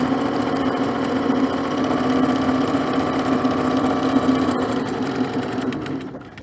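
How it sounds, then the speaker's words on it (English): A sewing machine runs steadily and loudly while top stitching and back stitching an apron pocket, a continuous close whir that slows and stops at the end. "I'm going to lower my presser foot, I'm going to back stitch and sew."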